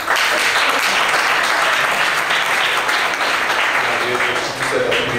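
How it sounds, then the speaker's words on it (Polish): Loud, continuous applause from spectators at a police-class school tournament, a dense wash of clapping that stays steady for several seconds, with a voice faintly audible beneath it. "To wielkie oklaski dla kibiców"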